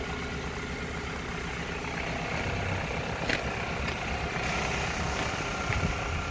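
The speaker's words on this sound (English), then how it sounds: "This is what the engine is." The engine of a 2001 Toyota Camry LE idles at a steady rumble for several seconds, with a continuous, even mechanical hum and faint ticking and no speech.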